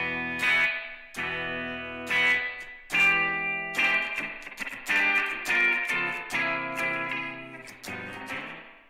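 An electric guitar plays through the Modern Deluxe two-channel amp simulator on iOS with reverb added. A series of strummed chords rings out with repeated sharp attacks and reverb tails, and each chord decays between strums.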